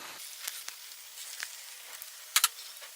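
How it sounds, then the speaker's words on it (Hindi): Boneless fish shami kebabs shallow frying in hot oil over a medium-to-low flame, giving a soft steady sizzle with a few brief pops and crackles, heard close up and alone. "ये देखिए कबाब हमारे फ्राई हो रहे हैं"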